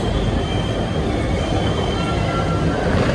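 A train at Paris Gare du Nord station, a loud, steady rumble of rail cars with a faint high squeal of wheels running through it.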